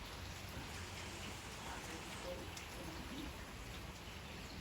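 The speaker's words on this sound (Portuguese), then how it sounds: "Olha lá, ó, chuvinha." Light rain falls outdoors as a steady, even patter and hiss at low level, with no other clear sounds.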